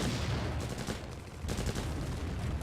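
Artillery fire in the video game Empire Earth, a dense continuous barrage of booming shots and rapid gunfire, loud and sustained with no pause.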